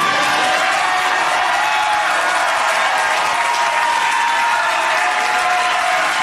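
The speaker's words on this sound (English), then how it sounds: "Everybody's standing and cheering for this guy." A packed room of standing people bursts into sustained loud applause mixed with cheering and whoops, dense, steady clapping throughout.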